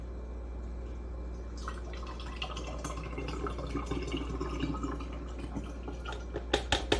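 Italian-style olive oil salad dressing drips and trickles into a container, soft liquid patters building into quicker, denser drips toward the end, quiet and close.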